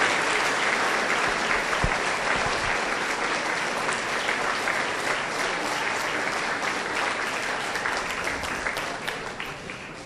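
Sustained applause for a group of church brethren, a loud continuous patter of many hands clapping that stays even for about ten seconds, close and with no speech over it.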